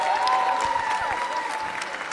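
A large crowd applauds at the IFSC European Youth Cup bouldering finals in Soure, Portugal, a dense, loud, continuous clapping with a tonal whistle or cheer riding over it.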